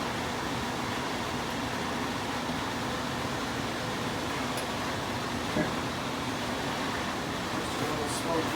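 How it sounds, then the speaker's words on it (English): A kitchen vent hood fan runs over a stove while red snapper Veracruz-style cooks, giving a steady, even whoosh of moving air at moderate level, close by and unchanging throughout. "I'm going to turn on my vent for a second here just to clear out some smokiness."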